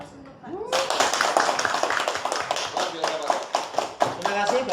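Audience applause at an education-module outreach session, a dense crowd clapping that swells in sharply and holds steady and loud throughout, with scattered sharper claps on top.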